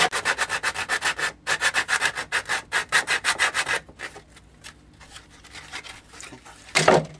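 Hand sanding of a coped wooden trim joint with the belt removed from the sander: rapid rhythmic back-and-forth rubbing strokes, close and loud, slowing into scattered scrapes near the end.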